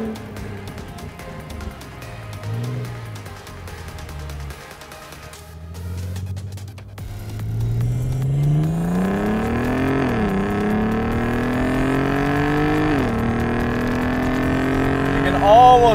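A modified VR6 Audi TT Quattro on a racetrack, its engine loud and close, climbing through the revs in long rising pulls with gear changes, the tone growing harsher toward the top end.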